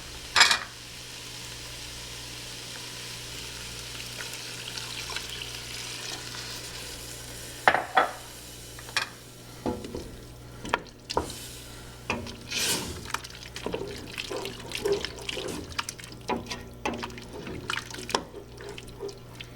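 Beef broth poured into a pan of cooked-down flour for an Irish shepherd's pie, then stirred: a low steady simmer runs throughout, with scattered spoon scrapes and clinks growing busier in the second half, no talking.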